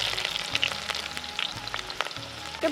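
Chopped onions fry in a pan with cumin seeds and dried red chillies, giving a steady, close sizzle with faint crackles and occasional light stirring, no voices.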